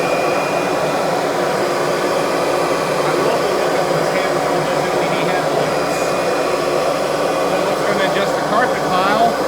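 A Kirby Sentria G10D upright vacuum cleaner runs at full power with a loud, steady motor roar and airy whine. The tone barely changes from start to finish.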